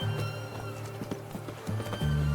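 Roach the horse galloping in The Witcher 3, a close rhythmic clip-clop of hooves over a low steady drone, with a brief whinny-like tone near the start and end.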